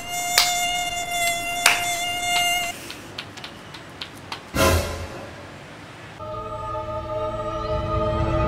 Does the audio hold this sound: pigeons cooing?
no